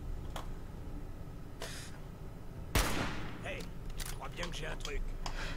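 A sniper rifle fires once in Fallout 4, a single loud, sharp crack with a decaying tail, set against steady game ambience and scattered small effects afterward.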